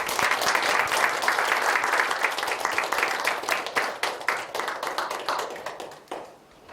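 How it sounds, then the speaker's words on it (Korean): A lecture hall audience at a KAIST retirement lecture gives loud sustained applause, many hands clapping together, then tapering off into scattered claps and fading near the end. "큰 박수로 맞이해 주시기 바랍니다"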